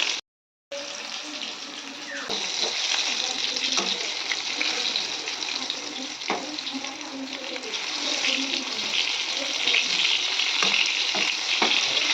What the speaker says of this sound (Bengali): বেগুন ভাজাটা হয়ে গেছে, তো তুলে নিলাম